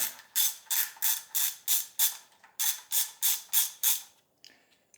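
Close-up ratchet wrench with an 11mm socket backing an 11mm nut off a BMW M54 inline-six engine's hoist lift point: about eleven quick rasping clicking bursts in steady rhythm, a short pause midway, then a faint tap at the end.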